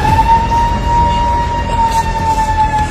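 A civil defense drill siren wails loud and steady at close range, one sustained tone that barely wavers in pitch over a low rumble of background noise.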